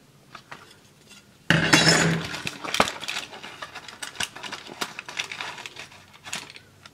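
Metal ration stove from a French 24-hour ration being folded open, a sudden loud rattle followed by a run of clinks, taps and scrapes close up, with no talking.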